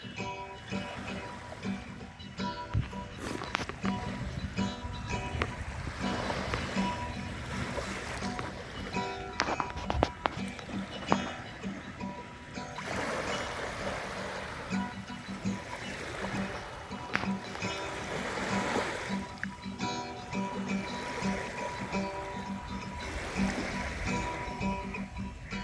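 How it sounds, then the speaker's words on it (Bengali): Small waves break gently on the sea shore at Lalganj near Bakkhali, where river water meets the sea, making a steady, moderate wash of surf that rolls on without pause. "দেখছেন ছোট ছোট ঢেউ পাড়ে এসে ভাঙছে"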